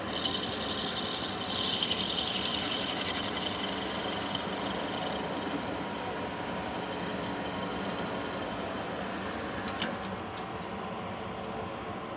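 A metal lathe faces and center-drills the end of a shaft with a 3/4-inch section, giving a steady, continuous rasping cut with a constant machine hum and no talk.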